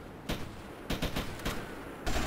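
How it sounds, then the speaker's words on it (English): Gunfire in Grand Theft Auto: Liberty City Stories, several quick bursts of shots at irregular intervals, fairly faint and with some distance, against low background noise. "I hear gunfire, that can't be good."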